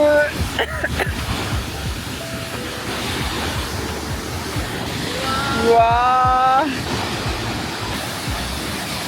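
A heavy, constant roar of the rushing Reuss River and spray beneath the Devil's Bridge near Andermatt, Switzerland, fills the scene, close and loud, while a voice briefly exclaims in awe.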